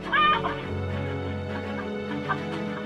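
A chicken squawks and flaps in alarm as a fox seizes it in a farm enclosure, loud flurried fowl cries and scuffling at the start, then continuing agitated clucking over a steady low hum.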